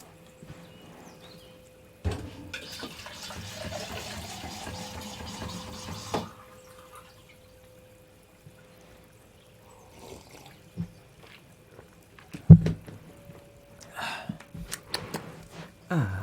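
Water pours from about two to six seconds with a rising, filling tone, as if into a glass, followed by scattered handling knocks and clatter.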